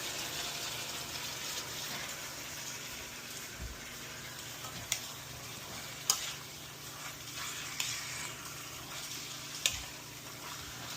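Marinated pork belly fries in a pan for kalderetang belly, a soft steady sizzle broken by occasional scraping clicks of a spoon stirring, faint and without speech.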